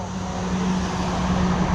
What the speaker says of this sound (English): Here comes another truck